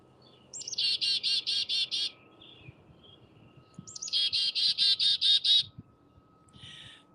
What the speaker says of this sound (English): the chickadee goes, chickadee-dee-dee, chickadee-dee-dee